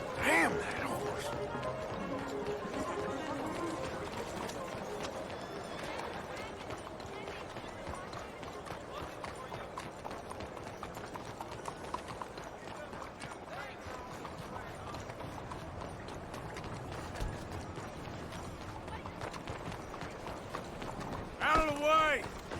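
Hooves clip-clop in a steady galloping rhythm in Red Dead Redemption 2, with mechanical game sounds and faint background noise, a voice briefly breaking in.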